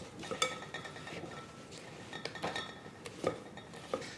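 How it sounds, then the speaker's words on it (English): Spatula scraping the bottom and sides of a mixing bowl of cake batter, a few soft scrapes with light clinks against the bowl, close and quiet, no talking. "Now I need to scrape down the bottom and sides of the bowl."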